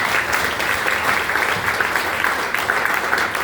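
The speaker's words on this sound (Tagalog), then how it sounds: "Isa munang malakas na palakpak sa Panginoon" Loud, sustained applause from a congregation at a healing-message church gathering, dense and even throughout with no talk over it.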